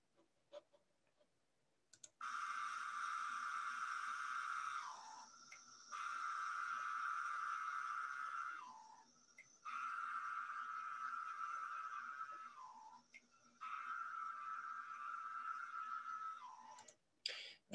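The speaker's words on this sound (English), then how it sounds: "That one is sometimes called the Pharaoh cicada, because the song kind of goes, Pharaoh, Pharaoh, changes pitch a little bit." Magicicada septendecim, the Pharaoh cicada, sings in four drawn-out buzzing phrases, each a steady high drone that drops in pitch at its end, separated by short gaps, clear and alone against quiet.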